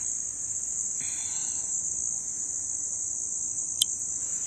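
Continuous high-pitched cricket chirping, steady and fairly loud throughout, with a faint brief click near the end and no voices.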